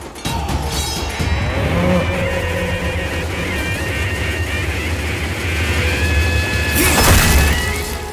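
A buffalo brought to a village sacrifice ceremony lows loudly amid dense crowd noise and clatter, its long calls rising over a constant roar of people and commotion, with a sharp crash near the end.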